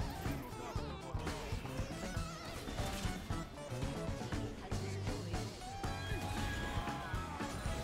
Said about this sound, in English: I hate that stupid horse!